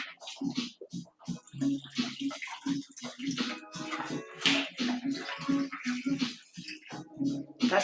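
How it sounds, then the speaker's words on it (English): Margarita liquor is poured over ice in a kitchen, a steady liquid stream with clinks and splashes running throughout, close and fairly loud. "It's just the liquor, because we're going to be pouring it"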